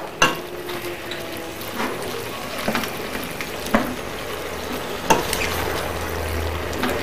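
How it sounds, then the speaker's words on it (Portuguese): Yakisoba noodles and vegetables are stirred in a pan to spread the sauce, with a soft continuous sizzle broken by several sharp scrapes and knocks of the utensil against the pan. "Aí eu mexo ele, né, pra poder distribuir bem o molho"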